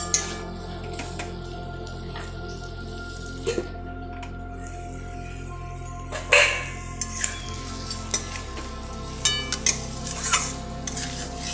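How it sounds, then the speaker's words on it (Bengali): Jackfruit (echor) being fried and stirred in a pan, a quiet steady sizzle under occasional clinks and scrapes of a spoon against the pan, close and without talk. "এঁচোড় দিয়ে মিনিট 2 আমি কষে নেব।"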